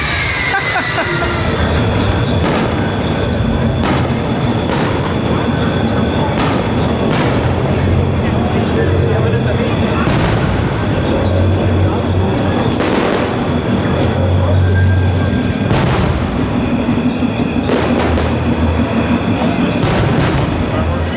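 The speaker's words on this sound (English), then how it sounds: "I do love how everybody stops for fireworks at Disneyland." Fireworks burst over Disneyland at night, loud sharp booms coming every couple of seconds over a constant rumbling crowd wash.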